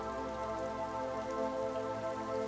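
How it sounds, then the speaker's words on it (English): Steady rainfall, a continuous even patter of raindrops with no voices or other sounds. "Next, Gaia looks up at the sky, and as she does, raindrops begin to fall."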